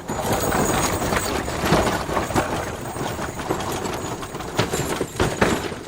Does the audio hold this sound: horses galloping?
yes